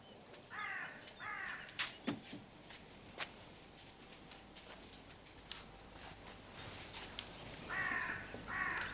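Crows cawing in bursts amid the quiet ambience of a harbor setting, with clusters of harsh calls near the start and again at the end, plus scattered clicks and knocks between.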